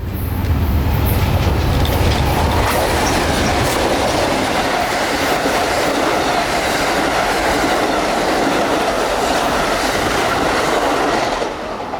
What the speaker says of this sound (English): These trains do not slow down for this station anymore